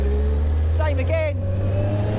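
A first-generation Suzuki Hayabusa motorcycle engine hums steadily and close, with someone briefly speaking over the drone in the middle.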